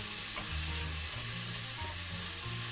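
Mushrooms fry with a steady sizzle in a pan inside a camper van, and a few soft stirring scrapes surface through the dense crackle; no one speaks.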